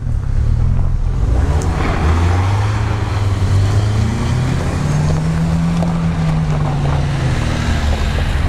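A car on Nokian studded winter tyres (215 size, automatic or manual) pulls away on a snowy slope, its engine rising steadily and droning loud and close throughout with wind noise.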